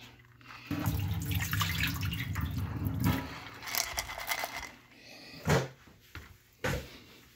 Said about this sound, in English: Pour off some of this excess water.